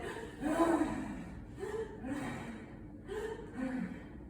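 A person imitates asthmatic breathing, with strained, labored exhalations that struggle to push air out, repeated in three or four gasping, snorting breaths close to the listener.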